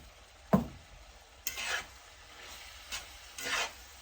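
A spoon stirs Amish spaghetti soup in a pot: a sharp clink is followed by several soft scraping, sloshing sweeps at close range, with a steady low hiss underneath.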